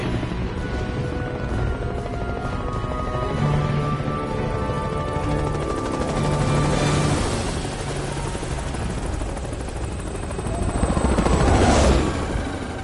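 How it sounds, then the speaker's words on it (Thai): A helicopter in the video game Resident Evil 6 flies off in a loud, steady rotor drone, swelling louder near the end as it passes close, with no speech. "เฮลิคอปเตอร์หนี"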